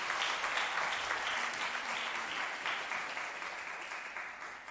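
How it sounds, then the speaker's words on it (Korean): Applause from a church congregation during a Sunday service, a dense steady wash of many hands clapping that fills the whole clip and slowly tapers off, with no talk over it. "거침없이 그냥 한 번 더 박수해 주시면."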